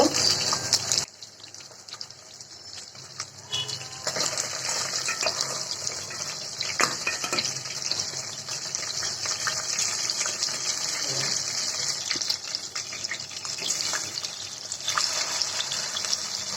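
Tilapia fish sizzling in hot oil in a pan, a steady broadband hiss of frying that runs continuously and close, with a few brief louder crackles and spatters, no talking.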